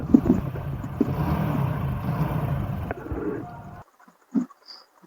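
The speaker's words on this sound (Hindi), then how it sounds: "देख सकते हैं कितना बुरी तरीके से गाड़ी में से आवाज निकल रहा है" A car engine with a worn timing chain runs with a rough, rattling clatter for a few seconds, then cuts off abruptly, leaving near silence with a faint knock.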